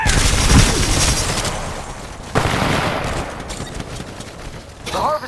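Loud, dense gunfire in the video game Titanfall 2 during a Frontier Defense match on Homestead, sustained bursts with booms and a sharp new volley midway.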